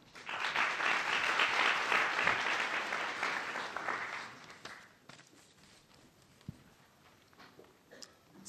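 A loud round of applause from a conference audience at a health forum in Tokyo, dense clapping for about four seconds that then fades into quieter room noise with a few scattered claps.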